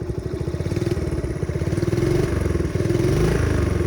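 A Honda DAX ST50 motorcycle engine, warmed up, revs under a feathered throttle with a steady buzzing pulse that rises and holds in pitch, loud and close throughout with no talking.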